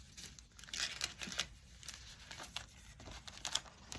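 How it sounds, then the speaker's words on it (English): Paper sheet cut slightly smaller than a treat gift bag being slid inside it, giving soft close crinkling and rustling scrapes in short bursts, with no talking. "cut the paper to size just slightly smaller than your bag so that you can easily slide the paper in"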